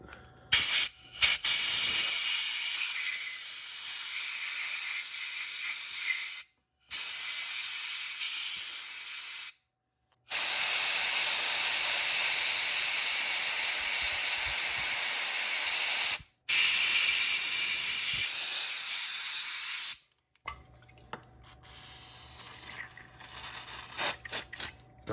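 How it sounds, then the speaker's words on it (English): Loud bursts of carb cleaner spray and compressed air blasting through the pilot and main jets of a Yamaha Venture/SXR 600 red head snowmobile carburetor, coming in several long hissing blasts separated by short pauses. "We want to blow out our pilot, and we want to blow out our main jets with carb clean, blow it out with air"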